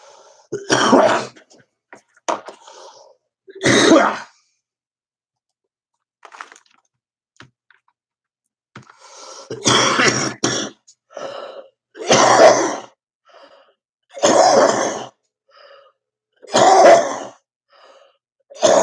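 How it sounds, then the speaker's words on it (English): A series of loud, harsh coughs in separate bursts, some paired, with short silent gaps between them, close to the listener. "I usually don't have to cough this much"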